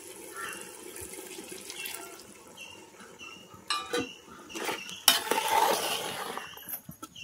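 Hot water is poured from a cup into a cooking pot of spiced biryani, making a few splashing, gurgling bursts over a quiet kitchen background.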